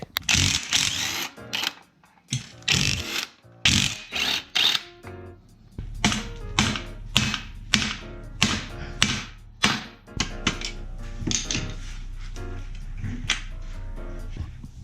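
Tools clatter and tap while the rear suspension linkage comes apart on a 2003 Honda CR250R dirt bike, with a steady run of sharp metallic clicks and knocks, close and fairly loud, over a low constant hum.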